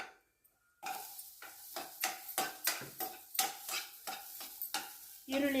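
Finely chopped onion drops into hot oil in a pan for a drumstick and potato masala curry, bursting into sizzle after a brief quiet, then rhythmic stirring strokes scrape and clatter repeatedly over the frying.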